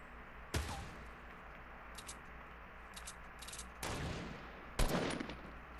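Gunfire in the Fortnite video game: a handful of sharp, separate shots spread across the stretch, several of them close and loud, with quiet game ambience in between.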